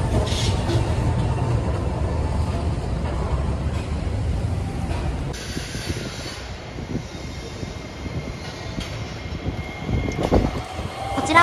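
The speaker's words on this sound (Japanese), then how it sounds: "一本電車が出ると次の電車が用意される、本当に慌ただしく電車が出入りする広島駅でした" Hiroshima Electric Railway trams come and go at the busy Hiroshima Station terminal, a steady rumble of rolling cars and street traffic with a brief rise near the end, and people talking faintly in the background.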